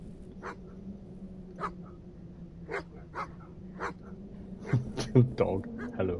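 A dog gives several short yips and barks, evenly spaced and then bunching closer and louder toward the end, over a low steady hum indoors.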